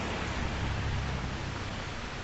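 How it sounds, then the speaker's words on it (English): Heavy typhoon rain from Typhoon Merbok pours down on Victoria Peak in Hong Kong, a dense, steady wash of noise that stays loud and even throughout with no pauses. "the rain's been pretty hardcore"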